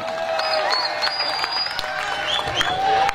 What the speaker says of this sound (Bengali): সবাই একটি করতালি